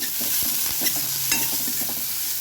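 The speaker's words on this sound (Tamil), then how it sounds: "அதையும் வந்து நம்ம போட்டுட்டு நல்லா கிளறி விட்டுருக்கலாம்" Ginger and garlic sizzling in a pan for mutton varuval while a spoon stirs and scrapes through them, steady frying hiss with a few sharper clinks of the utensil against the pan, close and without speech.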